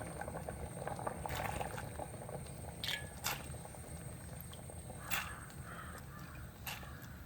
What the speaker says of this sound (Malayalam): നമ്മുടെ വാട്ടുകപ്പ് നന്നായിട്ട് തിളച്ചിട്ടുണ്ട്